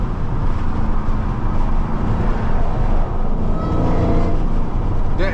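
Up close at night, a supercharged Dodge Hellcat Jailbreak holds a loud steady rumble that is never quiet. A faint whine rises near the end, with no voices.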